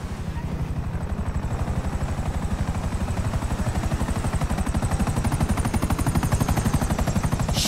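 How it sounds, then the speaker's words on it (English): A helicopter passes overhead, its rotor blades thumping in a fast, steady, loud rhythm that builds slightly throughout, with a faint high whine above the chop. "Shit! Chopper!"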